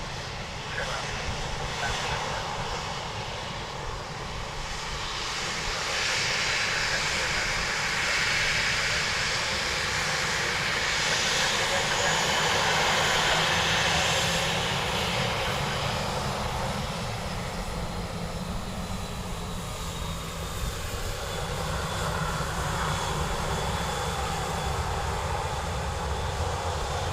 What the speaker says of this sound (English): A321neo from Heathrow now